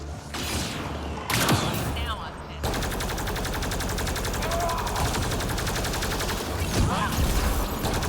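Assault rifle fire in the video game Mass Effect Andromeda rattles in rapid bursts, a short volley followed by a long sustained stream of shots with mechanical clatter, fairly loud and close, with a voice speaking briefly.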